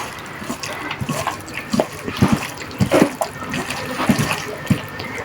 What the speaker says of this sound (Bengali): জাস্ট হাত ধুয়ে পানি দিয়ে দিব।